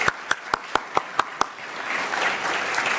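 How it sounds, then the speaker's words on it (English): A few sharp, evenly spaced claps ring out first, then a broader wash of conference keynote audience applause swells in and continues steadily. "I think we should give a tremendous applause to Mayor and Renee"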